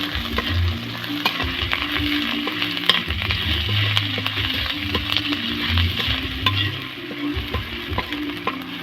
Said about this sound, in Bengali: এবারে এই রসুন বাটাটা দিয়ে দিলাম রসুনটা একটু লাল হয়ে আসবে নাড়তে নাড়তে